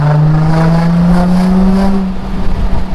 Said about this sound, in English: they were my new catalytic converters, making the car even louder than it already was